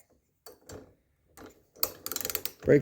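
Thread-cutting tap being turned by hand into a spark plug hole, probably aluminum, giving short clicking, ratcheting scrapes in a few bursts, close up with quiet gaps between them.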